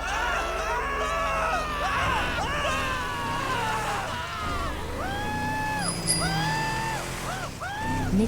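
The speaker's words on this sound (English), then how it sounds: "Oh, even animals scream." Animals in GTA 5 give a series of rising and falling wailing screams over a rumbling game background. The cries come in repeated bursts, and some voices mix into the noise.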